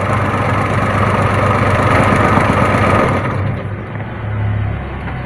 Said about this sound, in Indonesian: Nah, sekarang saya akan matikan dulu ya mesinnya.